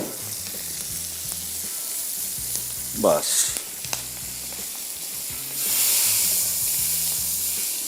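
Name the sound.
achari dal tadka sizzling in pan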